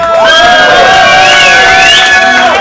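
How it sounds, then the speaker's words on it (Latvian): A loud crowd cheers and whoops for Marčs, sustained shouting and high voices ringing out together, close and continuous for the whole stretch. "Vēlreiz aplaus Marčam!"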